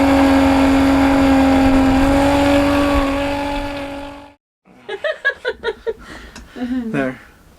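A macerator pump motor emptying the black tank of a 2007 bus conversion hums loudly with a steady pitch that rises slightly and then cuts off, followed by voices chatting and laughing.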